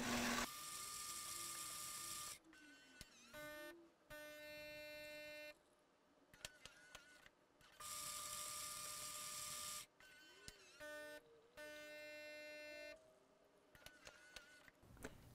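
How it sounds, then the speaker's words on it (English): Gaggia Magenta espresso machine grinding beans and brewing two drinks: bursts of loud whirring grinder alternate with humming pump and clicks, stopping and restarting several times. "This is going to grind and brew these drinks twice."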